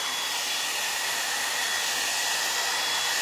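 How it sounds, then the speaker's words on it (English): A blow dryer runs continuously while drying hair during a face-framing layered haircut, giving a steady, loud, broadband whoosh throughout with no talking. "you might get a little more volume using a blow dryer."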